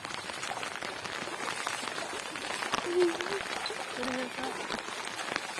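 Steady rain falls on a farm field of black gram, a dense unbroken patter close by throughout, with faint voices briefly surfacing beneath it.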